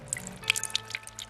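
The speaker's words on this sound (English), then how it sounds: "Jack Frost slowly dripped away" Water drips from a melting Jack Frost in a cartoon as a quick scatter of light, bright droplet plinks, several in just over a second, close and delicate over a soft background tone.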